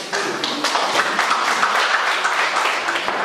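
Applause from a community gathering in honour of Grady at a charity meal event, a dense, steady patter of many hands clapping close by for a few seconds.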